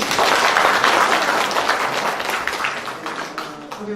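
An audience at a Korean panel discussion applauds steadily, dense clapping filling the room and gradually thinning toward the end.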